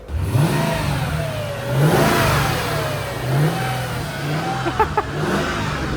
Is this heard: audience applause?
no